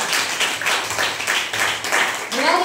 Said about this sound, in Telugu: చప్పట్లు దేవుని నామమున